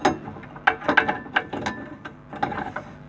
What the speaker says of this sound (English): If you pull the handbrake lever out a little